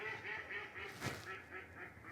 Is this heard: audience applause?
no